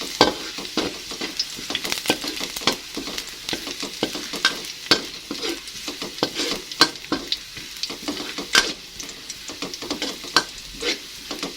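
Coarsely chopped garlic frying in a pan while being stirred, a steady sizzle broken by frequent sharp scrapes and clicks of the utensil, close and fairly loud, with no talking.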